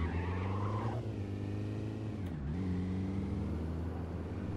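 A BMW in the City Car Driving game, driven with a Logitech G29 wheel, accelerates with a loud, steady engine drone whose pitch rises and then dips briefly before climbing again, with no talk over it.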